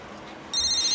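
A mobile phone ringtone starts about halfway through, a loud, steady electronic ring with bright tonal lines, cutting in over a quiet room after a short stretch of near silence.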